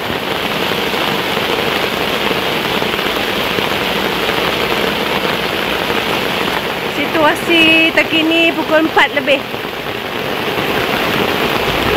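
Steady rain hisses over a riverside campsite at Chor River, Sahom, a dense wash of patter on surfaces throughout, with a voice speaking briefly over it midway.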